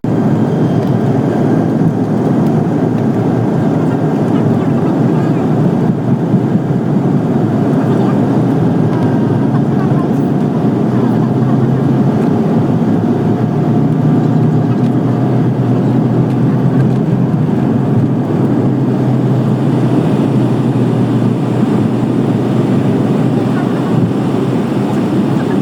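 A passenger airplane takes off, heard from inside the cabin as a loud, sustained low engine roar and rumble that holds steady throughout, with faint voices now and then beneath it.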